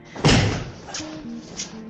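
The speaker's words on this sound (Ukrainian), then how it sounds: "і просто зачиняв двері" A door is shut with a single solid slam close by, followed by a faint thump and a quiet room.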